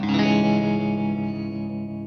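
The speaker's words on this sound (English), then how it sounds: "A little bit of trem, a little bit of reverb." A sustained electric guitar chord rings out with a wavering tremolo pulse and a roomy reverb tail, slowly fading over about two seconds.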